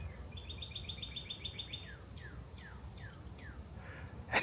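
A northern cardinal sings on a steep wooded slope of an old volcanic hill near Amity, Pennsylvania: a quick run of bright repeated chips, then several downslurred whistles, moderately near over a faint outdoor hush.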